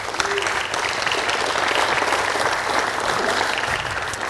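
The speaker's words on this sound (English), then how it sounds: "Let's give our series sponsors a round of applause." An audience at an agribusiness state-of-agriculture event gives a round of applause for the series sponsors, loud, full clapping from a large crowd that holds steady for several seconds.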